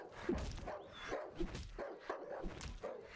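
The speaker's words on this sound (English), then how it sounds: "Die, dog." Hostile dogs in the survival horror video game Darkwood bark and yip in repeated short bursts amid scuffling game noise, moderately loud with no talking.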